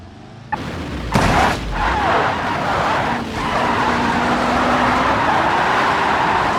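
Dacia Logan in the BeamNG.drive driving game, a sharp bang and skid-like burst giving way to a loud, steady roar of rushing engine and road noise that holds to the end.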